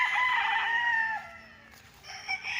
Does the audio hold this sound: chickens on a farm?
yes